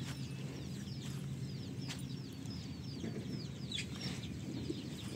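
Country chickens on a farm, some resting in a shed and others wandering in and out, cluck softly at a distance over a constant low hum. Occasional brief chirps rise above the background, with no voices.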